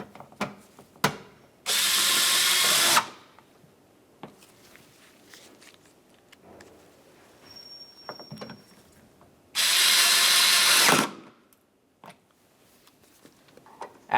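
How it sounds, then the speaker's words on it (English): A power driver runs Phillips head screws into a 2009-2019 Ford Flex liftgate during a rearview camera replacement, two close, loud sustained whirring bursts separated by clicks, taps and handling noises, no talking. "continue on with your Phillips head screws"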